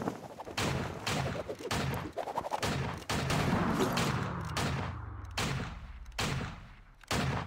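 Bursts of rapid gunfire from the video game Vainglory, a 5v5 jungle match, come in repeated volleys separated by short gaps, loud and close.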